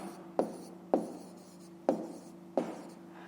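A pen writes on paper during a handwritten maths exercise, making four distinct scratchy strokes at an uneven pace, close and quiet.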